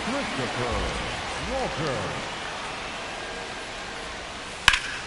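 Steady rain hisses over a baseball field in MLB The Show, a continuous soft wash under a voice talking early on, with a sharp click near the end.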